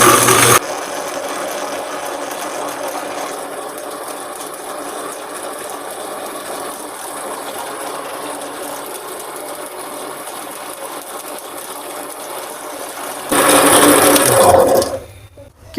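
A blender whirs steadily for about thirteen seconds, churning falsa berries with sugar into sharbat, then surges louder in a brief final burst before stopping, close by with no talking.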